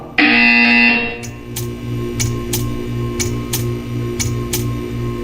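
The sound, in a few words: buzzer in the Portal 2 video game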